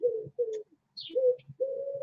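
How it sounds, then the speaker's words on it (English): A large pigeon coos nearby in a quiet room, giving three low, steady coo phrases separated by short pauses, with a faint higher chirp between them. "Giant, noisy pigeon."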